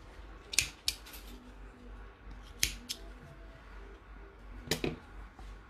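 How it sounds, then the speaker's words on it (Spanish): Scissors cut a plant stem while a crochet and macramé heart is set into a flowerpot, giving a few sharp, close metallic snips spaced apart over a quiet background. "Nosotros lo vamos a cortar un poquitito. ¿Dónde están? Aquí están mis tijeras."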